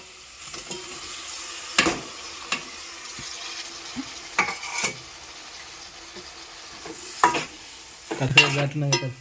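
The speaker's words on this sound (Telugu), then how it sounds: "టమాటాలు చూడండి టమాటాలు వేస్తాను" Tomatoes hit a hot pan for a dry fish curry, giving a soft sizzle under scattered spoon scrapes and clinks, with a louder burst of frying near the end.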